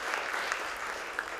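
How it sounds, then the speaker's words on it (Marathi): Steady, dense crowd applause at an annual award ceremony in Pune fills a short stretch without pause. "त्यासाठी टाळ्या वाजवूया."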